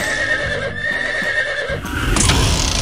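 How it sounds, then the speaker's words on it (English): Horse neighing in an animal-themed cartoon or game sequence of animal names and sounds, a short whinny over busy background music and effects, with a brighter burst near the end. "Horse."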